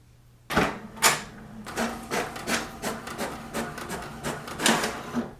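An HP DeskJet 4255e printer runs a page through, giving a series of rubbing, rasping mechanical bursts and feed pulses at close range, with no voices present.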